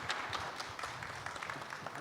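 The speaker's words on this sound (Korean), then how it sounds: "세 분께 다시 한 번 더 큰 박수 부탁드립니다" Brief burst of audience applause at a young farmers' talk show expo, a dense patter of hand claps in a hall thanking three presenters, steady and moderately loud.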